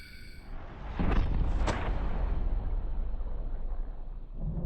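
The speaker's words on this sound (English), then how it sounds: "Shot 3, rifled 3D printed dart versus ballistic gelatin" A rifle-style gun fires a rifled 3D printed dart into a ballistic gelatin block, giving a loud, close single blast followed by a long rumbling decay and lingering noise.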